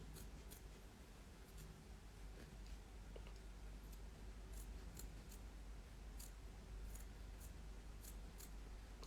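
Scissors snipping through felt fabric for 3D embroidery, a run of quiet, crisp clipping strokes repeated at an uneven pace, close to the microphone over a soft room hum.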